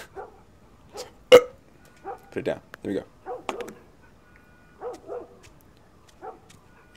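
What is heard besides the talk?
dog barking in the video game The Last of Us Part 1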